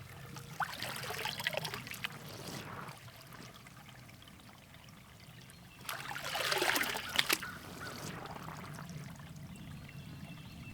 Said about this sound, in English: Water is now going into the screened intake, going a few feet downhill towards the filter bucket.